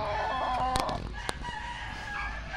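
Fighting roosters crow near a cockfighting area, one bird's drawn-out cry rising over the others, with sharp knocks and clucks breaking in and a low murmur of background noise throughout.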